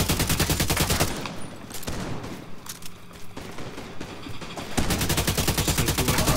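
Rapid automatic gunfire fired from behind a shield in the video game The Division 2, loud fast bursts at the start and end with a short pause between, no talking.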